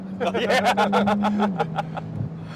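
A tuned Porsche 992 Turbo S turbocharged flat-six engine drones steadily from inside the cabin, a low constant hum beneath rapid pulsing road or wind noise.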